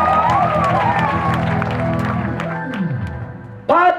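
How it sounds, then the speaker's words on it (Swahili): A church congregation claps and cheers during a Catholic Mass, a steady crowd applause over a sustained hum of voices that fades slightly before a brief louder burst at the end. "Makofi kwa Yesu."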